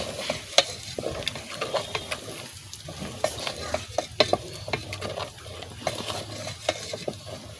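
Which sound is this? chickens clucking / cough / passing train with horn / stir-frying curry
stir-frying curry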